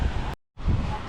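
Loud gusting wind buffets the microphone with a deep rumble, cutting out briefly in the middle before returning.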